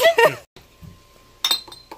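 Glasses clink briefly in a toast at a hikers' lodging along a trail, a short bright chime that comes between bursts of nearby talk.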